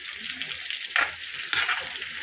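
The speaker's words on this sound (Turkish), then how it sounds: "bu şekilde sucuklarımızı doğradık ve pişiyor." Sliced sucuk sausage frying in a hot oiled pan, a steady close crackling sizzle with two brief louder spits or stirs partway through, no voices.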